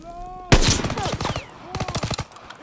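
Rapid bursts of automatic gunfire in the video game Call of Duty: WWII, loud and close, opening with a sharp blast and then a rattling volley, a pause and a second burst.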